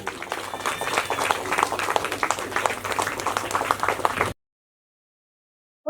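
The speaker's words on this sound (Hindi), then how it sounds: "एक बार जोरदार ताली है इनके लिए।" An audience at a performance event applauds loudly, a dense and steady clapping that fills the room for about four seconds and then stops abruptly, followed by silence.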